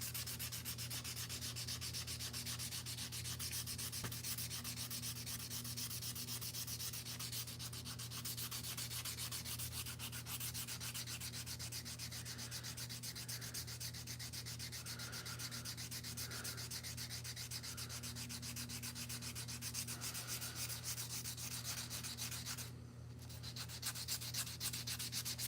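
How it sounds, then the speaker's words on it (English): A random orbital sander works over slingshot frames, a continuous close buzzing hum with a gritty rubbing hiss that stays steady throughout and dips only briefly near the end. "The rest of it I can use the random orbital sander"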